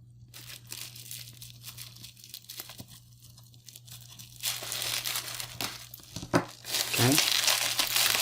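Scissors cutting and crinkling through plastic packaging on a Brick by Brick puzzle, quiet rustles at first, then louder crunching snips and tearing toward the end, with a low steady hum underneath.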